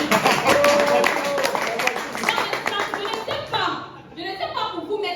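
A crowd claps and cheers loudly for several seconds, with voices mixed in, before the applause thins out into scattered chatter.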